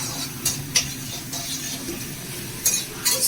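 Chicken pieces for hotel-style chili chicken lightly frying in a pan, a soft steady sizzle under sharp, sparse scrapes and clinks of a spatula stirring against the metal, with no talking.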